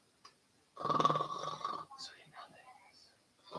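A person imitates snoring with a long, rasping breath sound, followed by softer breathy noises and a faint click.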